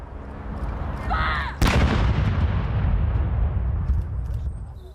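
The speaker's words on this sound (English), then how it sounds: "A noisy gun salute for the record-breaking monarch, honouring yet another unique milestone passed." A First World War artillery gun fires a royal salute for the monarch: one loud, near boom that rolls into a long, fading rumble over steady outdoor background noise.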